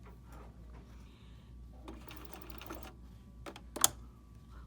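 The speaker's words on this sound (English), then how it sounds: "where I am sewing, and I'm using a stitch length of 2" A sewing machine stitches cotton thread at a stitch length of 2 on a sleeve, using a 1/8-inch foot. It whirs faintly and steadily in short bursts in a quiet room, with a brief sharp click near the end.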